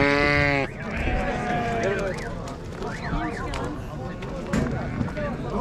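A sheep or lamb bleats once at a busy Merki livestock market, a clear close call at the start that gives way to crowd chatter, people talking and general market bustle.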